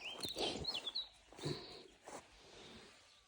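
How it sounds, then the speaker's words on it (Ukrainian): Birds chirp and sing outdoors in short, high bursts, with soft rustling and footsteps nearby, all fairly quiet. "Пташки, так співають пташки."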